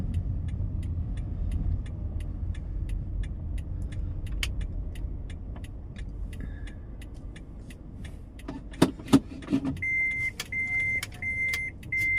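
A car pulls into a parking lot with a low, steady engine rumble, followed near the end by a few sharp clicks and a series of short electronic beeps.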